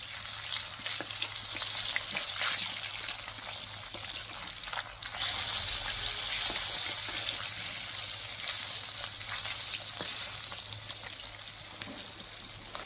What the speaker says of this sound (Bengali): তুলে তেলের মধ্যে তুলে দিচ্ছি মাছটা এক করে হয়ে গেছে আমি উল্টিয়ে দিচ্ছি